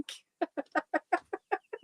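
A flock of around 80 baby chickens clucks in a quick series of about eight short, evenly spaced calls, fairly clear and close, with no talking over them.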